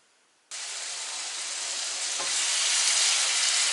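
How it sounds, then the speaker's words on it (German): Onions sautéing in a pan for a German onion-potato bake start with a sudden hissing sizzle that stays broad and steady, growing slightly louder, with no voices over it. "bin ich beim Zwiebeldünsten"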